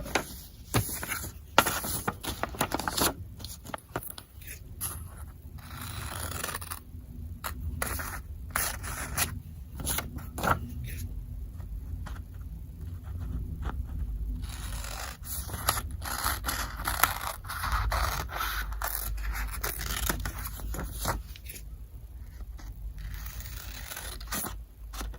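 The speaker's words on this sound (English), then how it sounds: "I'm going to cut it out." Scissors cut out a paper face mask template: close, continuous crisp snipping and paper rustling with short pauses, with no talking.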